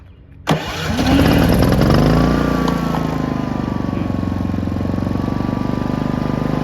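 A Predator 5000-watt generator, damaged in a wreck, cranks and fires after a brief quiet, then settles into a loud, steady running drone with a faint rising whine, close by.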